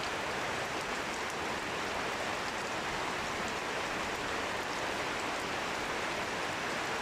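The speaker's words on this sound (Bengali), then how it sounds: "একটানা অঝোষ্টে বৃষ্টি নামতেছে" Heavy, unbroken night rain in a village in Kashiani, Gopalganj, a dense even hiss of downpour with no pauses, moderately loud and alone without voices.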